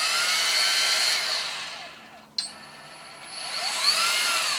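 A Flex cordless polisher whines at high speed, winds down, clicks, then spins back up to a steady close-up whir.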